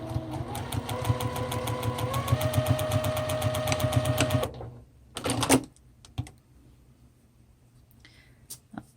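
Sewing machine stitching puppet fabric in a rapid, steady mechanical whir and needle chatter for several seconds, then stopping, followed by a few handling clicks and thumps before quiet.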